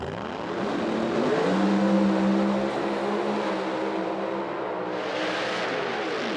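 Pro Mod drag race cars launching side by side, a loud sustained engine roar that swells and rises in pitch, then holds steady as the cars pull away.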